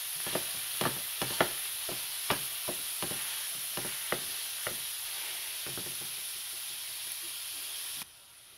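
Meat for a tamale pie fries in a pan while it is broken up, giving a steady sizzle with sharp, irregular taps and scrapes of the utensil, until it stops abruptly at the end.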